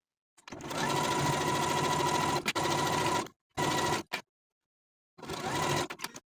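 Sewing machine stitching a jumpsuit's front waistband to the front pants, running in one long steady whir of several seconds, then a short burst and a final run after a pause, close and loud with no talk.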